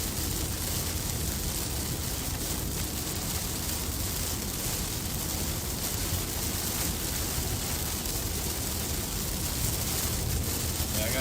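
Heavy storm rain pours steadily on a vehicle driving east on an interstate highway in North Carolina, forming a dense, even roar that fills the whole stretch without pause.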